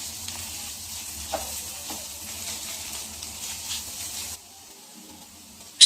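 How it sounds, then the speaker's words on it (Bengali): Shredded chicken frying with green chili, bay leaf, cinnamon and spices in a pan, giving a steady close sizzle with faint stirring scrapes that drops quieter near the end, no talk. "নেড়ে চেড়ে একটু ভেজে নিচ্ছি।"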